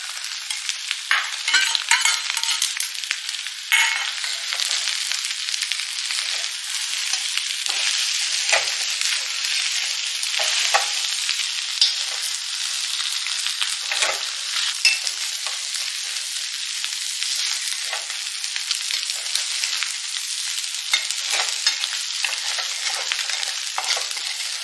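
Kottayam-style beef dry fry sizzling steadily in a pan with coconut, a continuous bright frying hiss broken by occasional scraping stirs, close and alone with no talk.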